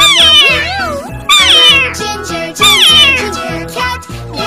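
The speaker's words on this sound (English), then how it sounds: "C for cat." A cat meows repeatedly and loudly, three drawn-out rising and falling calls in quick succession, close and clear over a light bouncy musical backing.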